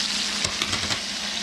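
Bacon sizzles in a pan, a steady fine hiss with a few soft stirring scrapes and pops near the middle, close and moderately quiet with no talk.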